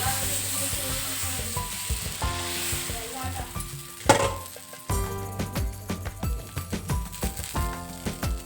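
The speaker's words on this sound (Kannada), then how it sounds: "ನಾನು ದೋಸೆ ಹಾಕ್ಕೊಳ್ತಾ ಇದ್ದೀನಿ ಎಲ್ಲರಿಗೂ." Dosa cooking on a pan over a gas stove set low on the floor, loud sizzling with repeated metallic clinks and scraping of the utensil, plus a sharp splash of sizzle midway.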